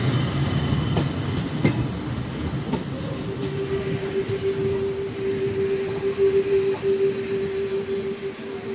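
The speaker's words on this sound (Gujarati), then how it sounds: "WTG 4G લોકોમોટિવ સાથે માલગાડીનું ક્રોસિંગ આપને બાલવામાં જોવા જડી ગયું છે" A freight train hauled by a WDG-4G diesel locomotive rolls past with its diesel tanker wagons, a steady rumble and rattle of wheels on rail, with a sustained wheel squeal droning through the second half.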